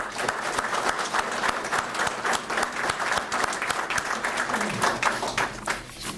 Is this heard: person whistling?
no